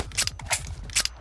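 A gun reloading in a first-person shooter game: a few short metallic clicks and rattles of the mechanism, repeating about three times over a low rhythmic background thump, moderately close and clear.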